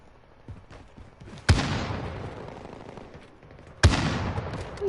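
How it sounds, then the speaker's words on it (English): Two sharp, loud gunshots from a video game, each a sudden blast followed by a long rumbling decay, set against low background noise. "What are you shooting at now?"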